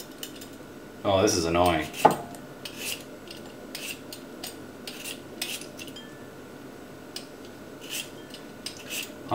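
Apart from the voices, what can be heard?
peeling potatoes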